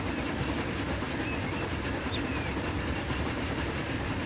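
A train rolls past in the Transport Fever 2 railway game, a steady rumbling wash of wheel and track noise that holds at an even level throughout.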